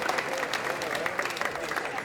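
Crowd at an open-air evening show in a town piazza clapping, a moderately loud patter of many hands with some voices mixed in, brief and fairly even.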